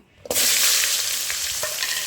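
Drumsticks (moringa pods) drop into hot oil left from frying aubergines, bursting into a loud, sudden sizzle that settles into a steady close-up frying hiss with a few faint knocks.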